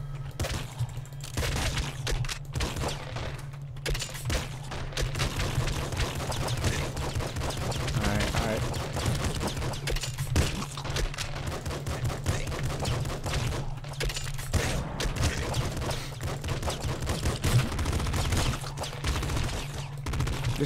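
Rapid, relentless weapon fire from Nuclear Throne rattles almost continuously over a droning low hum, with dense overlapping shots and occasional bursts that stand out.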